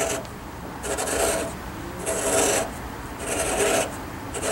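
A Neway valve seat cutter is turned by hand on a Jeep 4.0 cylinder head, giving three separate rasping, scraping strokes at a slow, even rhythm, close up against a quiet background.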